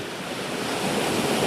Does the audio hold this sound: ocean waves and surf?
yes